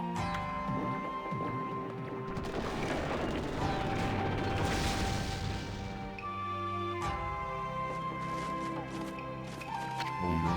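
Jigsaw bridge mechanism shifting into place in Okami HD: a swelling grinding, rumbling rush of moving parts peaking midway, then clunking settles, over steady game music.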